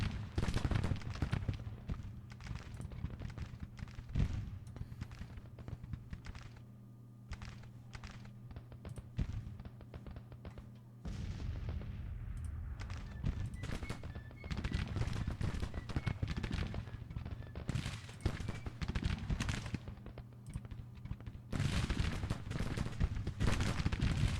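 Civil War rifle volleys in a Grand Tactician battle at a river ford crackle as scattered distant shots and bursts, with a brief lull midway before the firing resumes over a battlefield rumble.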